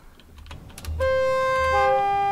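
Soft clicks and taps from a keyboard come first, then a loud, close two-tone train horn in Train Simulator blares and holds steady to the end over a low engine rumble.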